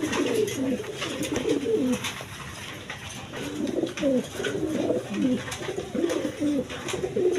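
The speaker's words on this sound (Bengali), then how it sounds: "একদম বিগ সাইজের কবুতর দেখেন দেখার মতো কবুতর" Big-sized pigeons coo close by in repeated, throaty bursts that rise and fall over a low background hum, with no talking.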